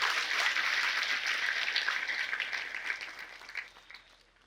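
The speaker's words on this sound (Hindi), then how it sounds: "आइए हम एक दूसरे के लिए तालियां बजा दें।" Crowd applause at an annual Marian grotto feast day celebration, a dense patter of many hands that gradually fades out toward the end.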